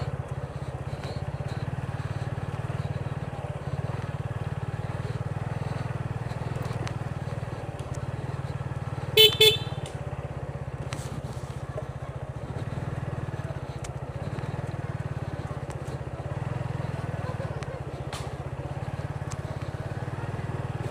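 Steady low drone of a motorcycle engine running along a village road in Balinga, Beanibazar, Sylhet, constant throughout, with a brief click near the middle.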